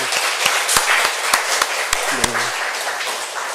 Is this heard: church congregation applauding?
yes